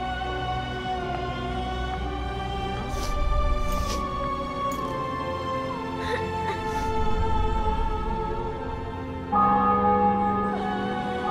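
Church bells in The Witcher 2 prologue at La Valette Castle peal in a few loud, resonant strikes with long ringing tails, layered over sustained orchestral music, with no voices.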